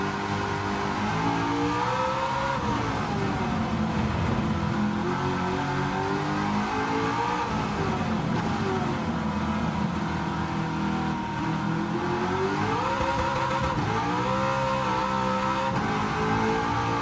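A TVR sports car in Gran Turismo 7, fitted with a swapped engine, roars under hard acceleration. The engine pitch climbs, falls back and climbs again through gear changes with loud, continuous, close-up intensity and no talk.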